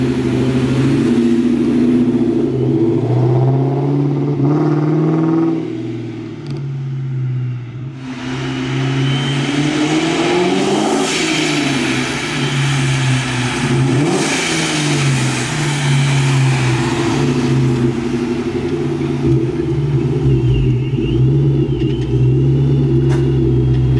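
1999-2000 Ford Mustang with a 2-valve engine driving, a loud close steady engine drone with rising revs and accelerating surges, including a sharp throttle push around the middle.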